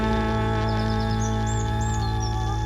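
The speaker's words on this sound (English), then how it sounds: "And then they end it with the birds?" Bird chirps close out an album track: a few bright, quick whistled calls ride over sustained, droning synth tones.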